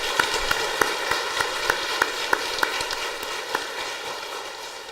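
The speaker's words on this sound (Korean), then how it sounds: "나오실 때 우리 환영하는 마음으로 박수로 맞이하겠습니다" A church congregation claps together to welcome the elder pastor during a Sunday service, a steady dense patter of many hands with rhythmic accents, filling the room and without speech.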